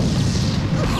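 A loud, dense explosion rumble from the World War II shooter Medal of Honor Underground, filling the moment with a broad blast and crashing debris, close and overwhelming.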